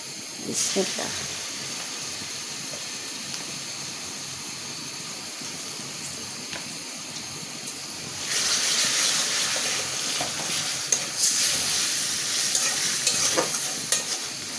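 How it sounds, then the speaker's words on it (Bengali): Ginger, garlic and onion paste frying with prawns in a pan, a soft continuous sizzle that jumps louder midway as the paste hits the oil, with scraping stirs and light utensil taps throughout and no one talking. "এখন আমি আদা রসুন পেঁয়াজ বাটা একসঙ্গে দিয়ে দেব"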